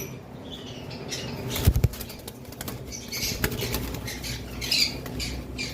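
A sun conure parrot takes flight, its wings flapping in quick close bursts with a few soft squawks, set against a quiet indoor background.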